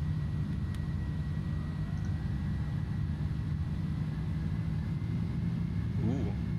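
An iniBuilds Airbus A310 airliner in Swissair livery climbing out of Zurich in Microsoft Flight Simulator, a steady low engine drone with a faint high whine, continuous and even throughout.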